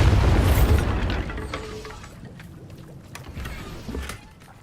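Bombarda spell in the video game Hogwarts Legacy, a loud close explosion burst at the start that rumbles and fades into quieter game ambience with a few soft knocks.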